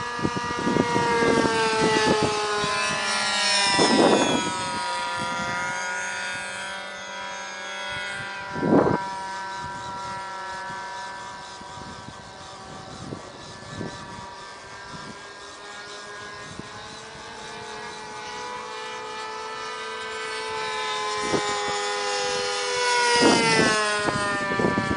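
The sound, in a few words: model aircraft engine running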